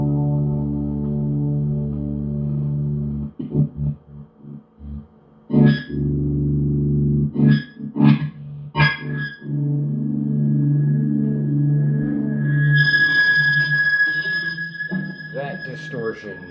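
Electric guitar pushed through distortion at band practice, starting with clean sustained tones, then a few hard, separate struck chords, and a thick distorted wash with a high ringing tone.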